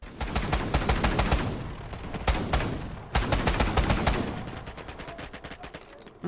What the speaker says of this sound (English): shots going across the way. I mean, look, that's a long range fight